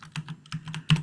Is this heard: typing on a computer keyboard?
yes